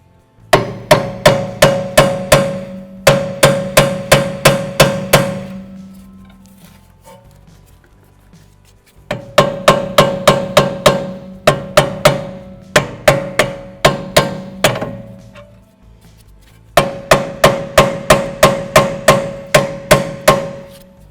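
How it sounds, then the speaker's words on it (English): Repeated hammer blows on an aluminum brake caliper, fired in three fast bursts of about a dozen sharp metallic strikes each, ringing close and loud with short pauses between bursts. "I'm going to hit it with a hammer, see if I can rattle some of that."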